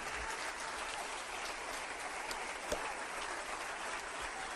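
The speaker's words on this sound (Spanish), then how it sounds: "Démosle un aplauso fuerte al Señor." Applause from a church congregation during a worship service, a steady broadband wash of clapping that holds evenly throughout with no talk over it.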